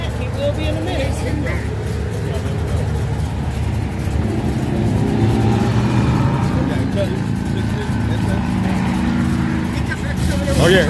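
Muscle cars and trucks leaving a car show rumble and rev their exhausts in a loud, sustained low growl, with people talking and cheering over the engine noise.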